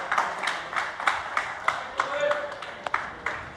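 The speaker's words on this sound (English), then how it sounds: "That applause there, likely associated with the revelation of his demise." Scattered clapping ripples through a poker tournament crowd, a thin irregular patter of hands with sharp individual claps, moderately distant and steady for a few seconds.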